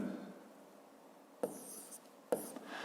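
Writing on a board in a 7th-grade physics lesson: soft, faint scratching strokes with two sharper strokes or taps, one midway and one near the end, and no talking.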